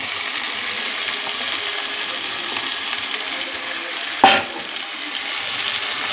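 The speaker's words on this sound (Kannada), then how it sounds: "ಈ ಟೈಮಲ್ಲಿ ಈ ಕಾಳು ಏನಿದೆ, ತರಕಾರಿ ಮತ್ತು ಕಾಳು, ಅದನ್ನು ಈ ಒಗ್ಗರಣೆಯಲ್ಲಿ ಸೇರಿಸ್ಕೋಬೇಕು." Field beans and chopped vegetables sizzle in a hot garlic tempering, a steady bright crackle that flares with a sharp burst as more food hits the pan, then settles back to an even fry.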